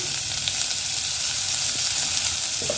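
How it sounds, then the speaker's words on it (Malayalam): Finely chopped onion and garlic sauté in a hot pan for a palak spinach dish, a steady close sizzle and crackle with light stirring scrapes near the end. "ഒന്ന് നമുക്ക് ജസ്റ്റ് ഒന്ന് വഴറ്റി കൊടുക്കാം ചെറുതായി അരിഞ്ഞതാണ് സവാള"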